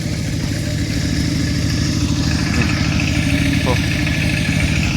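A tractor engine runs at a steady, loud, close-up chug without letting up, at a village site where locals are working together to build a new school. Someone talks over the engine noise.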